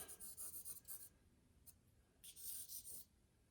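A charcoal pencil scratching lightly across drawing paper in two clusters of quick, rhythmic strokes with a brief pause between them. Close and soft, no voices.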